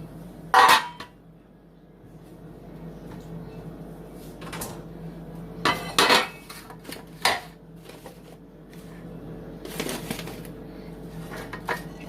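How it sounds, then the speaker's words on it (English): A metal baking pan for a hot chocolate dump cake is handled in a kitchen, with a few loud scattered clanks and knocks separated by quieter stretches of low room noise. "so I'm going to bring the pan over"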